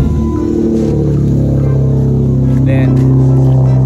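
A Dodge car's engine, started cold, holds a loud, steady, rumbling idle throughout, and voices talk over it.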